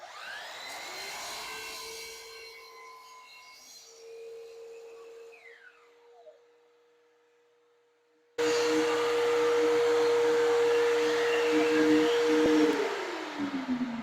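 A power saw's motor whines and winds down, then roars back in for a loud, sustained cut through a 23-inch piece of wooden window trim. The saw is close and there is no talk.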